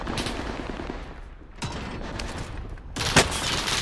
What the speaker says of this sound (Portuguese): Estão atirando aqui.